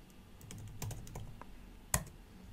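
Fingers type a password on a computer keyboard, a quick run of soft key taps close by that ends with one firmer keystroke, with no voice.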